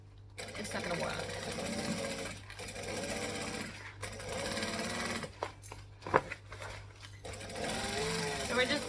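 A sewing machine stitches around a circular fabric bag with a steady close-up whirring and needle chatter that runs for several seconds, briefly slowing in places, while a person talks over it.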